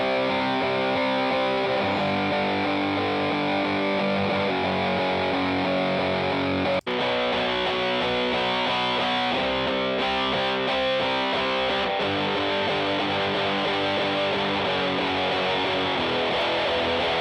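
Electric guitar running through a distortion pedal into an amplifier, a long stretch of dense, saturated chords and riffs played loud and steady, with a brief sharp click partway through and no voices.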